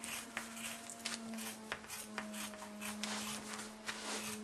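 Scissors cut through fabric for a nursing pillow, giving a close, steady run of crisp snipping and rasping strokes with no talking.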